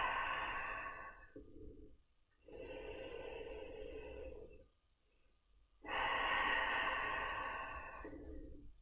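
Slow, deep belly breaths during a relaxation stretching session, heard close and alone: three long, airy inhales and exhales separated by brief quiet pauses.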